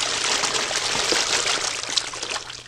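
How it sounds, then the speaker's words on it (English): Water pours and trickles inside a duck cage, a steady splashing stream with small gurgles running continuously at close range, with no talking. "We don't want to spill too much water in here."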